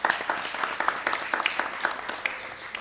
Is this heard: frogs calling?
no